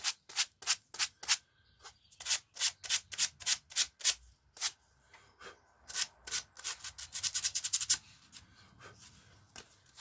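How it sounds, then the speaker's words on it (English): Fine grit sandpaper rubbed in quick back-and-forth strokes on scatter terrain for tabletop wargames, close and crisp, a steady run of strokes that speeds up into a rapid flurry before stopping. "Fine grit sandpaper."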